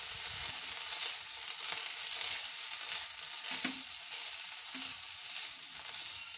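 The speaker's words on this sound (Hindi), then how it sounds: "और साथ ही मैं इसमें शामिल कर रही हूँ सोया सॉस और इसे हम खुश्क होने तक पकाएंगे।" Chicken pieces with soy sauce frying in a pan over medium flame while being cooked until dry, giving a steady broadband sizzle with a few soft stirring scrapes, close and continuous with no talking.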